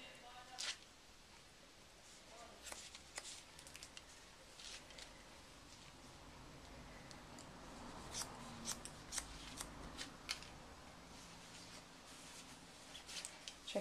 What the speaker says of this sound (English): I can just hold the hair and cut it into my hands.